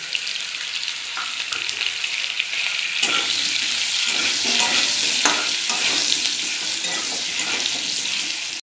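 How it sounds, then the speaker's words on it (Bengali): Cut potatoes, lightly seasoned with salt and turmeric, fry in hot oil for a Bengali egg curry, giving a steady, close, dense sizzle with occasional stirring scrapes and no voices. "আলু আমার ভাজা হয়ে গেছে"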